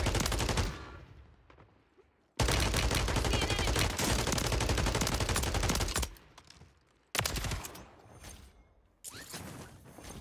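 Sniper rifle fire in Call of Duty Warzone on Rebirth Island, loud sharp shots and bursts crackling over long stretches, broken by sudden near-silent gaps.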